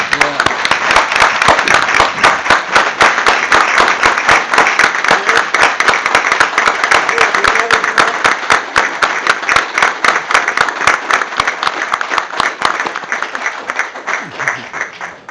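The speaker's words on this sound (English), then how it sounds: "And they should deserve a round of applause." Audience applause at a city council meeting honoring fire department members, a long dense burst of many hands clapping close and loud, holding steady before tapering off at the end.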